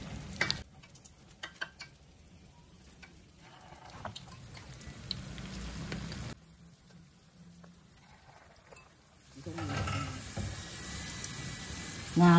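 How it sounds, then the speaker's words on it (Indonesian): Pempek adaan, premium belida fish balls, sizzle in oil in a wok: soft, crackling bubbling throughout with faint ticks, growing louder and denser near the end. "begitu dia masukin ke wajan bunyi ya langsung"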